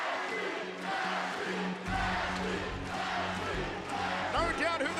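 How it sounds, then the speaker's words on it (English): An arena crowd at a Miami mixed martial arts bout chants rhythmically for fighter Ashley Evans-Smith, a loud roar that swells under steady commentary. "They're all chanting for Ashley Evans-Smith as she throws a wicked elbow."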